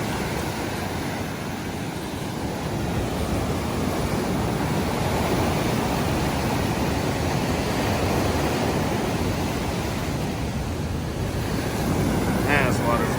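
Ocean surf rolls onto Bradenton Beach, Florida, a continuous broad wash of breaking waves with heavy wind buffeting the microphone throughout.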